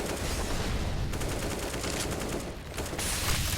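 Rapid bursts of gunfire spammed through smoke in a Counter-Strike: Global Offensive pro match, loud dense rattling shots in a nearly continuous stream with brief pauses.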